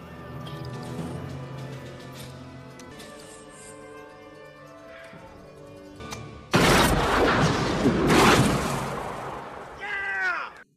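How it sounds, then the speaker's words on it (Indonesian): Test firing of a gun in a film plays out as a sudden loud burst of gunfire and crashing that erupts after a stretch of quieter music, dense and sustained for several seconds before tailing off. "Dan sekarang, kita lihat percobaan tembakan senjata tersebut."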